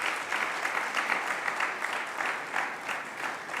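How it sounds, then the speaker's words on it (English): Steady round of applause from a conference audience at a national non-oil export event, dense continuous clapping at moderate level with no talk over it. "Let's give a round of applause to NEPC"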